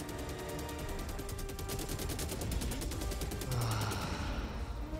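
Rapid automatic gunfire from a Helldivers 2 battle against Automatons, a steady rattling burst of shots running for several seconds, fairly loud with a low rumble beneath and a brief tone near the end.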